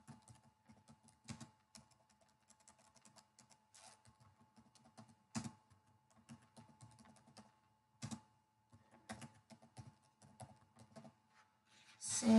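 Keys tapped on a computer keyboard while filling in a software template, with quiet, irregular clusters of keystrokes and a few sharper clacks across a near-silent room.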